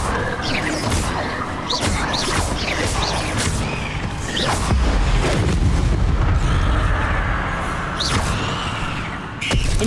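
Incendio fire spells cast in Hogwarts Legacy combat against spiders, loud booming bursts with whooshing impacts over a dense rumbling battle backdrop, several distinct blasts spread across the span.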